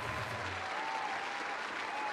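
Studio audience applauding on a Filipino noontime variety show, a steady dense wash of clapping across the whole stretch with no pauses.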